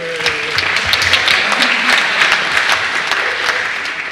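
Audience applause for speakers on a panel about fascism and resistance after Charlottesville, a dense, loud, steady roar of many hands clapping with no pauses.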